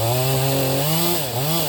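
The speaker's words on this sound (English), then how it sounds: "I grabbed a chainsaw and started cutting the trees into smaller pieces" A chainsaw cuts felled trees into smaller pieces on forest land being cleared, its engine roaring loud and close with a steady whine that dips briefly as it bites into the wood.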